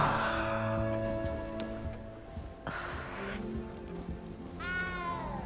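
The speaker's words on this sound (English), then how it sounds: "I better go make sure the first years caught that cat." A cat meows in a video game set in a magic-school castle, with a few drawn-out, wavering cries heard near and clear over a steady bed of game music and ambience.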